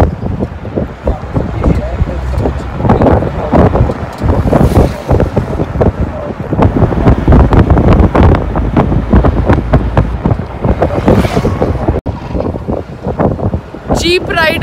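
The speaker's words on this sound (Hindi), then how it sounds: "Jeep ride is going on. हवा चल रही है" Steady wind roars loudly through the whole ride in an open jeep heading toward a leopard lair resort in Bera, with a voice talking over the buffeting.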